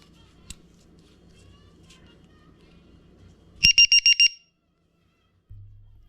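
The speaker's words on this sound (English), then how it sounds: "an alarm will start going off. Beep, beep, beep, beep, beep, and you'll hear it in the air." After quiet background noise, an RC plane's battery voltage alarm lets out five rapid, shrill beeps in a short burst, then falls silent.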